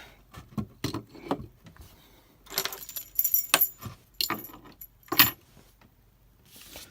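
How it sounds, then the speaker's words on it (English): Mechanic Dave's ring of keys jangles up close in several separate shakes, bright metallic clinks in short bursts with quiet gaps between. "That's Mechanic Dave's keys."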